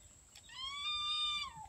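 A single drawn-out, high-pitched kitten cry, fairly close and clear, rising then falling off over about a second.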